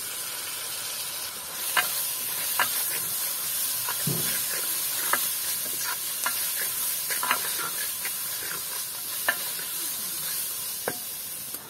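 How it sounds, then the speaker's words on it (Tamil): Ginger, garlic and curry leaves sizzle in a hot pan for a Jaffna village crab curry, a steady frying hiss broken by repeated sharp scrapes and clinks of stirring, close and continuous with no voices. "இஞ்சி உள்ளியை போட்டு கறிவேப்பிலையும் போடுவோமா, போட்டு வதக்குவோம்."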